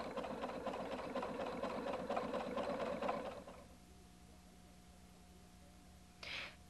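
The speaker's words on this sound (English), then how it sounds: "Continue to satin stitch around the applique." A Husqvarna Viking Designer 1 sewing machine runs a rapid, even satin stitch for about three seconds, then stops, leaving a faint steady hum and a brief soft click near the end.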